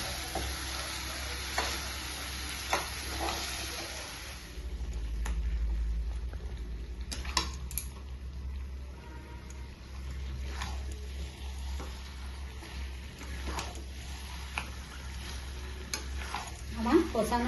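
Spicy Bengali mutton kosha sautés in a pan with a little added water, a continuous low sizzle and bubbling broken by occasional scrapes and clinks of stirring, with faint speech at moments.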